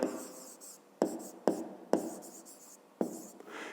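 A pen writes out a math exercise on paper in a series of short scratchy strokes, about five quick bursts separated by brief pauses, close and quiet.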